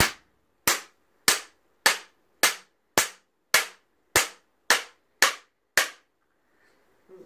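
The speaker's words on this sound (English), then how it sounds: "we'll give it a good hammer." Eleven sharp metallic hammer strikes driving a star nut into a bike fork with a Park Tool TNS-4, in an even, steady rhythm, each ringing briefly before the next, then quiet.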